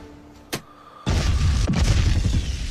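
A roadside bomb explodes against a car in the action film The Sniper: a sharp pop first, then a loud, sustained, rumbling blast with a second burst inside it, close and dominant.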